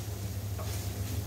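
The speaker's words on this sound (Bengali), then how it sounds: "এখন সব মশলাগুলো সুন্দর করে একটু কষিয়ে নিব" Spices with salt and turmeric frying and being stirred in a pan, a steady soft sizzle with faint scraping, close and continuous with no talk.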